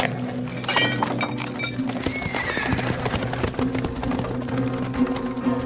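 Horses' hooves clip-clop steadily beside a wagon in a radio drama scene, with harness jingling, clinks and a neigh over a low continuous background, close and loud throughout.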